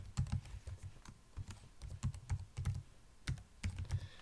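Someone types a password on a computer keyboard, a close run of quick, uneven key clicks and taps with short pauses between bursts, with no talk over it.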